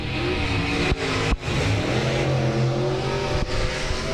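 Race cars roar around the oval at South Texas Speedway on the final lap, a loud continuous engine drone that dips briefly as cars pass, with no talking.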